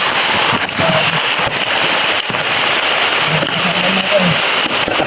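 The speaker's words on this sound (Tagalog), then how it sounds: "Lakas ng ulan." Heavy rain pours down outdoors in a steady, loud wash of noise for the whole stretch, with brief low voices breaking through now and then.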